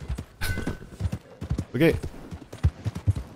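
Horse hooves clip-clop in Red Dead Redemption 2 with scattered, uneven hoofbeats alongside someone speaking German and other game sounds.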